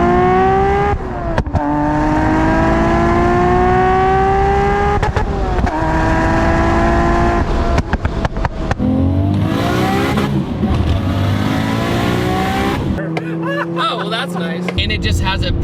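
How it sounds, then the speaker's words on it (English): A 650 hp Nissan R34 GT-R with a single turbo drives hard, its engine droning loud and close, rising through revs, dropping between gear shifts and climbing again, with turbo whooshes and a voice talking over it. "it just has a presence to it with the single turbo noises"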